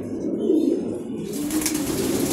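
Racing pigeons coo steadily inside a large loft, a close, continuous low murmur of overlapping calls with no talking.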